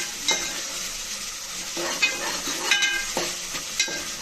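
Onions fry in a pan while a utensil stirs them, making a steady close sizzle broken by several sharp scraping clinks on the metal spaced a second or so apart, with no talking.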